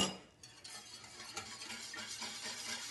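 Plain yogurt being whisked into hot milk in a pot, giving a quick, continuous scraping and tapping under a soft wash of noise, close but fairly quiet, with no voices.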